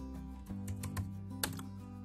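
Fingers typing on a computer keyboard, a quick run of close key clicks with a heavier tap near the end, alone over a faint steady hum.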